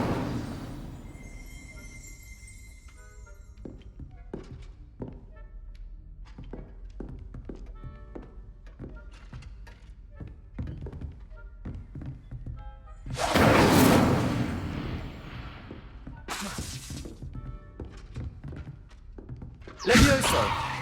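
Spells being cast in a Harry Potter video game, a string of short thunks and taps with two louder whooshing bursts near the middle and end, under game music and occasional voice.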